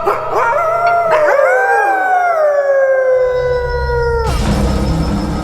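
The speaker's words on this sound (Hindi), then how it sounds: "और कभी कभार कुत्तों के भौंकने की आवाज सुनाई देती है।" Dogs howl at night in a loud, close sound effect: several long, overlapping wavering howls that slide down in pitch, then cut off abruptly into a low rumbling noise near the end.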